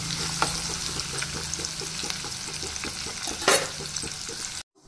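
Onions fry on a low flame with peanuts and chana dal for cashew upma, a steady crackling sizzle under regular rhythmic stirring scrapes, ending in a brief sudden silence.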